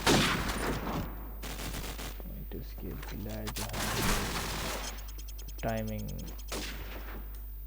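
Bursts of video-game gunfire, including pre-fires and wall-bang shots, crackle in a competitive esports grand final, loud and dense beneath excited commentary from a caster.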